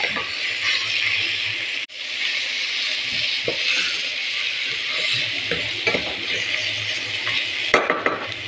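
Spiced saluyot (jute leaves) is stirred in a pot with a spoon, giving close scraping and clinking against the metal over a steady sizzle, with occasional sharper knocks.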